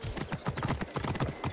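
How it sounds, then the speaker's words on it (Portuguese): Horse hooves in Assassin's Creed Origins clop in a fast, steady galloping rhythm, close and fairly loud throughout, with no voices over them. "mas o cavalo não corre mais rápido, não é igual The Witcher"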